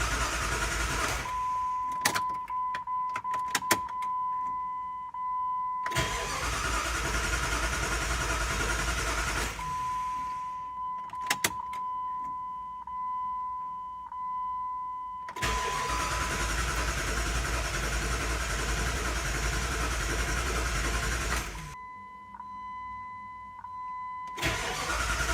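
A Jeep WJ engine, just reassembled after timing chain work, cranks repeatedly in several long bursts with short pauses between, a steady mechanical whir heard close and alone.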